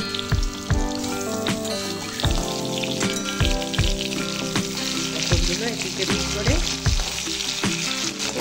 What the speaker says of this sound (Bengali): তেল গরম হয়েছে, আমি পটলগুলো ছেড়ে দিই।